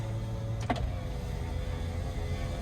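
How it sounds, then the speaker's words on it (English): A short electric whir of a 1994 Ford XLT power window motor, heard once against a steady low interior rumble. "Power windows work really nicely."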